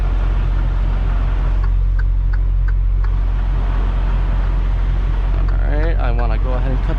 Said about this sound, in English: we're just going to go ahead and go straight back, turn the trailer in.